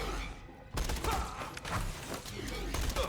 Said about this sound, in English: it's a pretty solid SMG